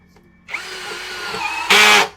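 A cordless impact drill, the HL BCID 813 13 mm model, runs in torque mode against thick steel channel, a steady whirring motor that ends in a loud, harsh burst of clutch ratcheting, close and alone.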